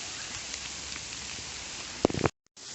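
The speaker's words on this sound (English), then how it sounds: "Path's really getting white now. It's all small hailstones." Small hailstones patter steadily onto a woodland path in a nature reserve, making a dense, even hiss of tiny impacts, with a few louder close knocks near the end before the sound cuts out briefly.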